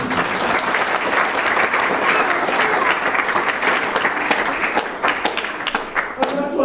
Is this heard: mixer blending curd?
no